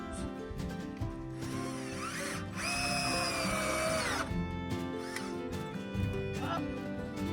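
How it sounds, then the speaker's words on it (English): A power drill drives screws into wooden pallet slats for a hugelkultur bed, whirring up in speed in close, loud bursts with ratcheting clicks, while a person talks nearby between runs. "Let's do the bottom 2 screws now, folks."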